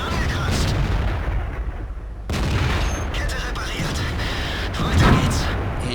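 A tank shell glancing off the armor of an E-100 in World of Tanks on a city map, with heavy cannon booms and metallic impacts amid battle noise while a player talks.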